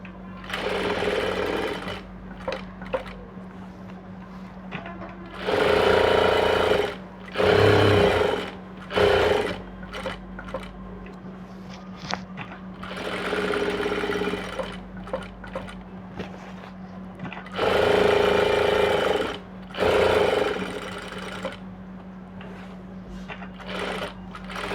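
A sewing machine stitches an aari net blouse in several loud, steady bursts of rapid mechanical whirring, separated by pauses, with a constant low hum underneath throughout.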